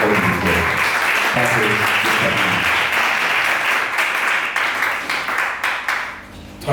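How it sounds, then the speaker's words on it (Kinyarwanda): A church congregation applauding, steady loud clapping from many hands that carries on for several seconds and then thins and tapers off near the end. "Rero reka dukomere Imana amashyi"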